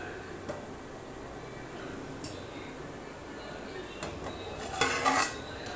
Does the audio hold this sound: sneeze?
no